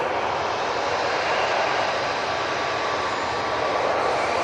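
An easyJet airliner on its takeoff roll at Manchester Airport gives a steady, loud broadband engine roar that stays constant throughout.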